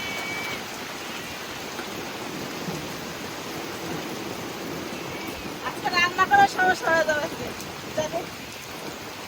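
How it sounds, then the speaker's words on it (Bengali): Steady monsoon rain pours down outdoors around a wood-fired clay stove, a continuous hiss of drops on surfaces throughout, with a person speaking briefly over it. "আষাঢ়ে বৃষ্টি অবশ্য বেশিক্ষণ থাকবে না,"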